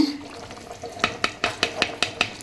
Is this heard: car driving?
no